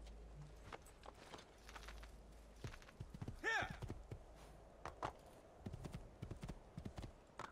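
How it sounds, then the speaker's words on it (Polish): Horse hooves in Assassin's Creed II: a rapid clip-clop of hoofbeats, close and moderately loud, with a brief whinny-like sound in the middle. "Fajnie tak sobie koniem zapierniczać."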